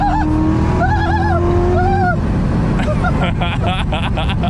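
Manual Corvette C7 Z06 accelerating at night, heard from inside the cabin: a loud engine roar with pitch climbing through the revs, easing off and rising again, with voices over it.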